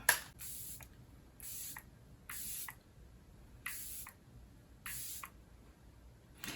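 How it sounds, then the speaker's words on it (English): Six short, soft pumps of a fine mist of Charlotte Tilbury Airbrush Flawless Setting Spray onto a face, at a steady rhythm, close and quiet, with nothing else heard. "spray my whole face with it"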